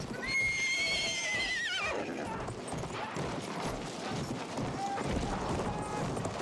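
A horse in Battlefield 1 whinnies loudly, its call rising and falling, then hooves pound in a fast gallop amid game noise and a brief tone.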